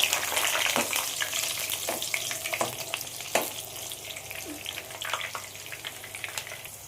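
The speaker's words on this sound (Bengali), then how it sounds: "এবার আমি বেগুনটা ভেজে নেব" Eggplant fries in oil with a continuous crackling sizzle, close up, punctuated by occasional louder pops and spatters, no voices.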